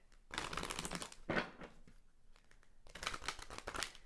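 Tarot cards are riffled and shuffled up close in two long, dense rustling bursts with brief papery flicks between them, fairly loud and free of talk.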